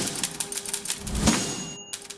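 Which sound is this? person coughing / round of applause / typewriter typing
typewriter typing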